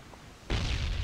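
A grenade explosion in the game Ring of Elysium bursts in suddenly after a quiet moment, a single broad, loud boom that stays heavy and rumbling to the end.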